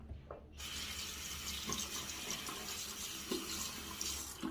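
Water runs steadily from a bathroom tap for rinsing after a shave, a close, continuous splashing stream that starts abruptly after a moment of quiet.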